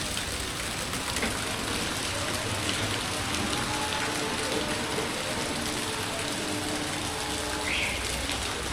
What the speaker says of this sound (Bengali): এই দেখো বৃষ্টি হয়ে গেছে।